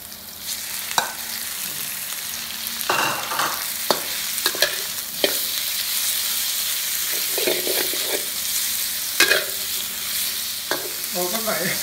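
Pork with fresh chili stir-fried in a hot wok, a steady loud sizzle broken by repeated scraping and clanking strokes of the spatula, close up with no talk.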